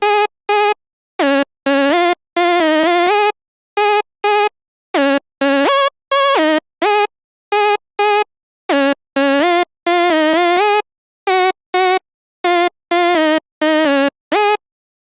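A bright, buzzy Sylenth1 synth lead patch modeled on a song's lead plays a choppy melodic phrase of short staccato notes and a few held ones, loud and upfront with no talk.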